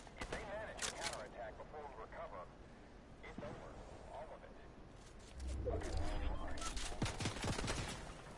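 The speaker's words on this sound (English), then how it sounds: "Oh shoot, they're shooting at us." Video game shootout with bursts of gunfire crackling through the mix, sharp shots clustering near the end, while a player talks over much of the action.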